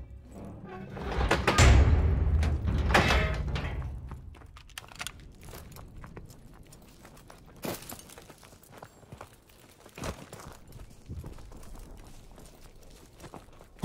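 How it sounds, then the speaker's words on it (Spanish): A door creaks open in the Call of Duty WWII game, with a loud, close groaning swing followed by scattered thuds, steps and clatter in a quieter room. "Abre la puerta"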